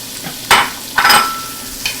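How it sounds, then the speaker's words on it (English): Chopped onions and Granny Smith apples hit a pan for German red cabbage, producing a few short, sharp bursts of sizzle and scraping stirs separated by brief quiet gaps. "And what we want to do is saute these basically until they're translucent."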